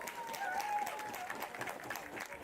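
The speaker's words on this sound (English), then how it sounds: "Round of applause for the young man as he makes his way to the bench." Applause from a crowd at an AFL match, steady and moderately distant, with a faint voice and background crowd noise underneath.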